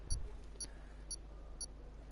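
Four short electronic race-start beeps in the game F1 2018 sound at an even, evenly spaced rhythm over a low background hum, crisp and fairly faint.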